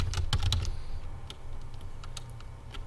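Typing on a computer keyboard, a quick run of close key clicks at first followed by sparser, fainter taps over a steady low hum, no talk.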